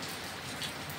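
Steady rain falls across the whole moment, a dense even patter of drops on surfaces with no gaps or other sounds, moderately loud and close.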